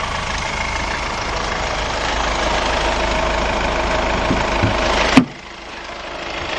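A 2-litre CRD diesel engine in a Kia Sportage all-wheel-drive with a 6-speed manual gearbox idles steadily and close by, then abruptly cuts off near the end, leaving a quieter lingering hum.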